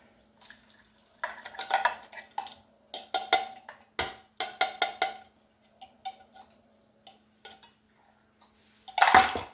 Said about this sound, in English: I got my nuts all chopped. And I'm going to put them in here.